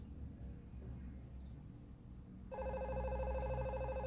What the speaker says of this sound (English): You can see the phone is ringing